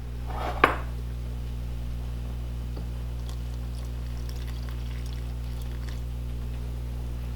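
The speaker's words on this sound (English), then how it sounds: "you're going to add your water" Water being poured into a cooking pot, a short splash and clatter near the start followed by a steady low hum and faint clinks, close by.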